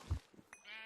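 A white sheep in Minecraft gives a short bleat up close, followed by a fainter second call, with a quiet gap between the two.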